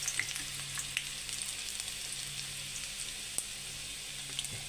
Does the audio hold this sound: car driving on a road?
no